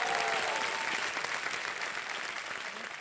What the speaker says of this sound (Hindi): तब तक हम आपके लिए ताली बजवा देते हैं।